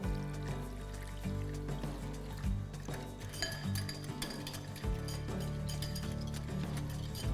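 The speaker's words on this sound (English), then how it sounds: "Let me rinse it with some water." A cooking pan rinsed with water, metal clinks and knocks over running, splashing water, close and moderately quiet with no speech.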